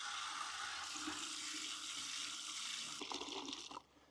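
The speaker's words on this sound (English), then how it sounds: "And now I'm just going to go ahead and top this off with water." Water runs steadily into a container as an RV fresh-water tank sanitizing solution is topped off, a continuous close splashing rush that cuts off near the end.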